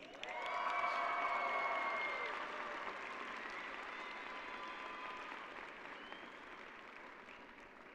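At a high school graduation ceremony in a large hall, an audience claps for a graduate, a dense burst of applause that swells quickly and then slowly thins out, heard from a distance.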